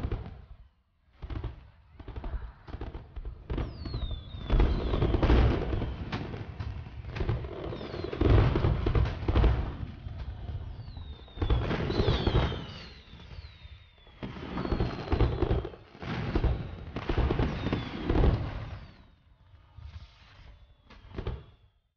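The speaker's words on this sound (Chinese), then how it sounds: "就陪我看看烟花吧。" Fireworks burst outdoors at night in repeated volleys of booming cracks and crackling, with whistling rockets rising between bursts, loud and fairly close, with no talk over them.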